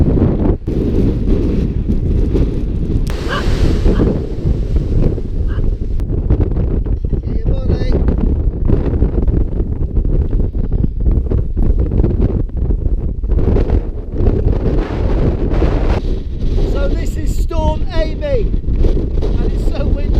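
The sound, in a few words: strong wind blowing at Portland Bill coast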